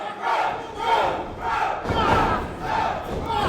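Loud, rhythmic crowd chant for wrestler Elliot Qrow at a wrestling show, repeating in steady pulses across the arena for several seconds.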